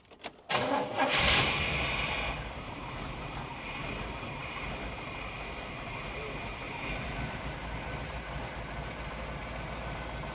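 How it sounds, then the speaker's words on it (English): A 1946 Chevy pickup truck engine cranks briefly and catches, then settles into a steady, rumbling idle that continues close by for the rest of the stretch. "Start it up."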